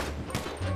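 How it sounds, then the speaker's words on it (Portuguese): Gunfire in a GTA 5 roleplay game session, a quick burst of shots that is loud and close, with no voices over it. "Atira na porta de baixo, vai"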